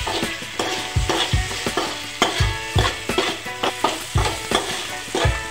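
Green chillies with a little salt stir-fry in a pan, making a close, steady sizzle broken by a regular rhythm of spatula scrapes and knocks, roughly two per second.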